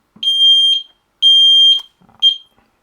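A Sensereo MS-1 smoke detector sounds loud, shrill test alarm chirps in a pulsing pattern: two long piercing tones, then a shorter one, with faint clicks between and no talking.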